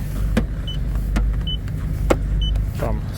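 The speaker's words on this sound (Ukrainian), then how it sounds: "Багажник з електроприводом." An electric motor whirs steadily as the powered tailgate of a 2013 Mitsubishi Outlander 2.4 moves, with a few sharp clicks and short beeps along the way.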